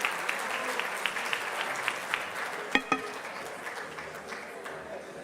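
Audience applause for a conference moderator at a breakfast plenary, a steady patter of many hands clapping at moderate distance, with a couple of sharper close claps near the end and faint voices underneath.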